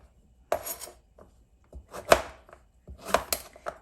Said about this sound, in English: just chopping this.